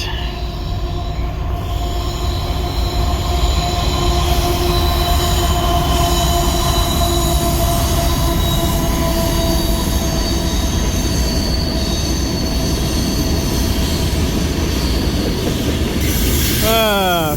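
A long freight train with a KC locomotive in front rolls past steadily in Burlington, Wisconsin, wheels clattering and squealing on the rails, loud and close throughout with a rumbling drone underneath.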